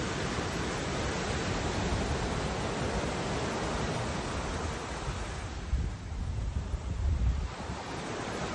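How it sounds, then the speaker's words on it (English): Loud ocean surf roars in a dense, continuous wash of breaking waves, heavy and close, with wind buffeting the microphone. "The ocean's so loud, I can't see"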